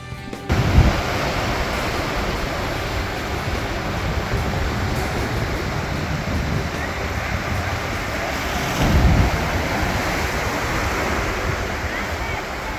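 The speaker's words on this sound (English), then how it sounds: "the waves crashing against the rocks" Continuous roaring surf crashing against rocks on the Maui coast along the Road to Hana, with wind buffeting the microphone and a couple of heavier wave surges, loud and close throughout.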